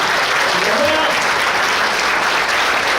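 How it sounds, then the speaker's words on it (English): Comedy club audience at Wiseguys in Salt Lake City applauding the wait staff, a steady, dense wash of clapping that fills the room for the whole stretch without letting up. "Clap it up for them."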